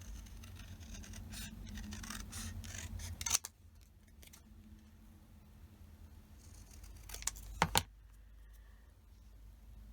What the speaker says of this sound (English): And then I'm just going to use my scissors to trim around that.